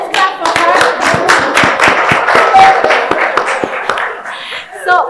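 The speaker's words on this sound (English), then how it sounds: "So let's clap for her." Close, distinct hand claps from a conference audience form a quick irregular patter, loud and sharp, with a few voices and light laughter mixed in before it thins out near the end.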